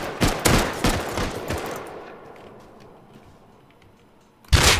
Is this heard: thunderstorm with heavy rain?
no